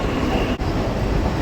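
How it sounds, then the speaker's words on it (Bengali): A local train rolls into Madhyamgram station at night, a steady loud rumble of wheels and carriage noise running throughout with one brief dip midway. "এই এখন মধ্যমগ্রাম স্টেশন ঢুকলো,"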